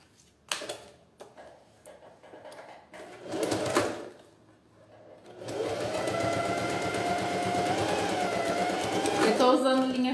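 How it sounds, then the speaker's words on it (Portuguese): A sewing machine stitches fabric with ordinary polyester thread at stitch setting 3 while making a beach visor pouch; soft handling clicks come first, then a steady, close, rapid mechanical whir runs to the end. "tô costurando no ponto 3"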